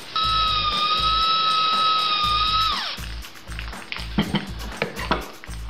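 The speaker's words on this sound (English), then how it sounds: "And we're going to drill." A power drill drilling through wood whines at a steady high pitch for about three seconds, then winds down, followed by scattered clicks and light handling noises.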